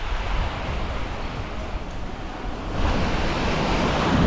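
Surf rolls onto a beach at Arraial do Cabo during a red tide, a steady broadband wash of waves with some wind rumble that swells louder near the end.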